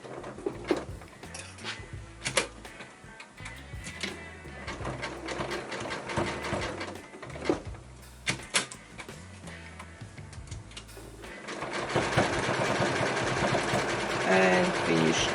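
A sewing machine stitches fabric for a fabric scrap necklace in a series of mechanical ticking bursts with pauses between them, growing into a steadier, louder whir near the end, while a person speaks over it.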